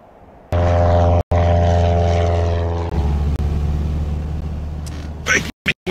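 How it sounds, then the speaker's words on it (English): A propeller airplane approaching an island drones loudly and steadily, its engine tone shifting partway through before cutting off abruptly at the end. "Unidentified aircraft approaching Isla Sorna."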